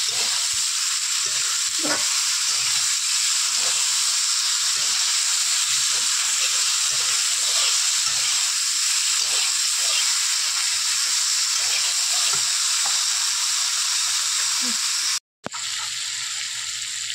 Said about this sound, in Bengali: এর উপরে কুমড়োর ডাঁটাগুলো দিয়ে দেব, দিয়ে ভালো করে ভেজে নেব।